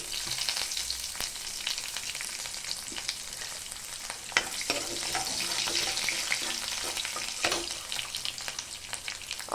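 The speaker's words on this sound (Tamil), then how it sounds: "கடுகு நல்லா பொரிஞ்சப்புறம் கறிவேப்பிலை நசுக்கி வச்ச பூண்டு" Mustard seeds, curry leaves and crushed garlic frying in hot oil, a dense crackling sizzle with sharp pops and stirring scrapes throughout, close and steady with no voices.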